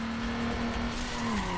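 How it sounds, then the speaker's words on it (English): Car oversteering in the Need for Speed Underground video game, giving a steady, loud tire squeal whose pitch holds and then drops, over continuous engine noise. "what was that oversteer?"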